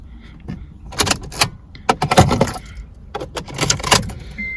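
DIY car keys are handled during key programming: close, bright metallic jingles and clinks come in several short bursts with brief gaps between them.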